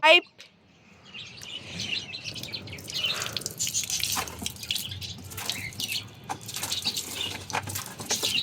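Water splashes and drips in uneven bursts while pigeons being bathed chirp and flutter close by, with a loud thump at the start.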